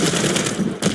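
Rapid burst of automatic machine-gun fire in a tactical shooter match, loud and continuous with a brief gap near the end, no voices.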